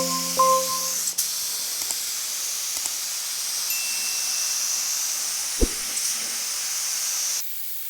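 A spray gun lays a seal coat of polyester primer thinned with a little acetone onto the hood of a 1950 Chevy truck, giving a steady close hiss that runs for several seconds and then cuts off.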